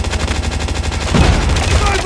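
M4 rifle fire in a Call of Duty match rattles off in a rapid, loud, continuous burst, with heavier impacts and game noise layered over it.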